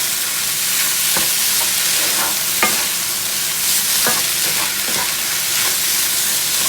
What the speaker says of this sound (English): throw on our tomato sauce right on top of our rice. And stir all that together